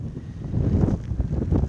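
Wind from a February blizzard at a Crimean rose nursery buffets the microphone in low, uneven gusts that swell and fall, close and rumbling, with no voices.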